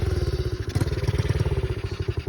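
A pit bike engine sputters and putters in a fast, uneven pulsing rhythm, loud and close, as if struggling to stay running after being flooded.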